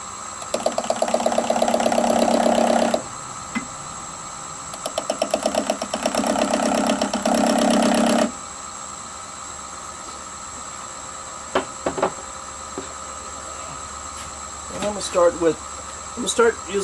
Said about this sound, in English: I'm gonna start by taking a skew, and I'm gonna mark where I'm going to start cutting